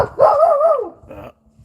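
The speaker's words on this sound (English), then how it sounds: "found somebody to bark at" A dog by a lake gives one long, drawn-out bark or yowl at a passer-by, close and loud, followed by a shorter yip.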